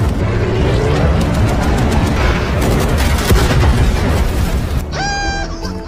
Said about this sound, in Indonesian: menghadapi tembakan anti udara dari sisi sungai